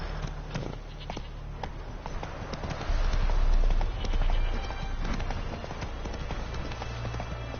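Roach the horse galloping in a video game, with quick rhythmic hoofbeats that run steadily over a low rumble of background game sound and swell louder midway through.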